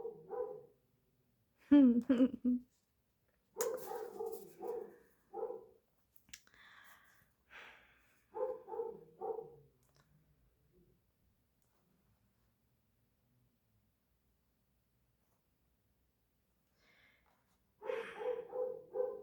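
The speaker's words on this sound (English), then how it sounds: "It's a little hard to concentrate with him barking so much." A dog barks in short bursts of several yips and woofs, separated by quiet pauses, fairly close in an otherwise silent room.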